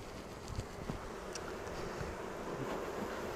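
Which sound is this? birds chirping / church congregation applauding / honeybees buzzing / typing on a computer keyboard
honeybees buzzing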